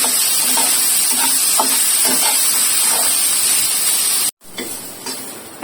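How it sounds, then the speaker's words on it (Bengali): Leaves fry steadily in a pan of hot oil, a loud continuous sizzle and hiss with faint stirring taps, briefly cut off near the end before the sizzle resumes more quietly. "চারিদিকে ঢাকটলের পাতাও কিন্তু হয়ে গেছে এরকম টান টান করে ভেজে নিতে হবে"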